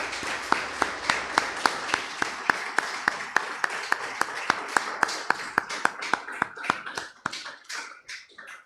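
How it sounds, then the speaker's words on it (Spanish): A church congregation claps in steady unison, about thirty sharp claps in a regular rhythm that slows and loosens near the end before fading into a few scattered claps. "Démosle un aplauso al Señor."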